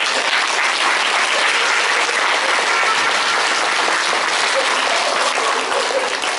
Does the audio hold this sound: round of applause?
yes